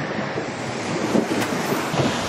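Ocean surf washes and breaks along a Cavite shore, a steady rushing hiss mixed with wind buffeting the microphone, moderately loud, with no voices.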